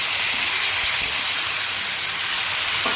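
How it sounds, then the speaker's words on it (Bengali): Steady, loud hiss and sizzle of chicken pieces coated in salt and turmeric frying in a pan, continuous throughout with no voices. "এবার চিকেনগুলোকে নুন হলুদ মাখিয়ে ভাজতে বসিয়েছি"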